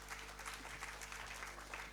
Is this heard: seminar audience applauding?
yes